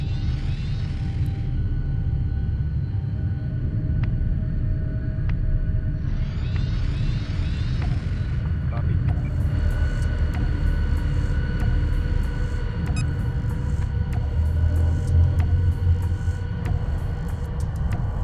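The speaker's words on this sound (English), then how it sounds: "Elite Corvette squadrons launching from mothership." Elite Corvette squadrons launch from the mothership in Homeworld 2 as a steady low engine rumble and hum, broken by two short hissing whooshes early on and faint clicking blips later.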